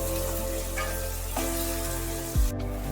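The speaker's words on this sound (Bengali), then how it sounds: "আলুকে ভালোভাবে তেলের মধ্যে একটু নাড়াচাড়া করে নিতে হবে" Diced potatoes sizzle in hot oil during the tempering stage of a bottle gourd and rohu fish head dish, frying steadily with a sharp scrape of stirring near the end, close and alone.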